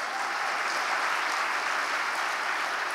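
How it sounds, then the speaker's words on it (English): Steady, dense applause from an audience honouring actor Sunil Shetty at an onstage conversation event, a continuous even wash of clapping with no pauses, fairly loud and filling the room. "give him a big round of applause"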